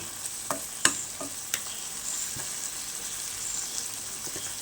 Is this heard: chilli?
yes